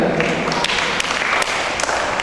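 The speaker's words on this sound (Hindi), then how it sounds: "इनके लिए ताली बजाओ" A temple audience claps during a religious gathering, dense continuous applause close by with scattered sharper claps throughout, the crowd's clapping filling the whole moment.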